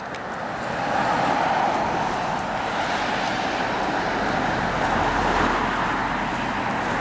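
Steady road traffic on a Burbank street, heard from the sidewalk while walking: a continuous broadband roar of cars passing nearby, with no talking over it.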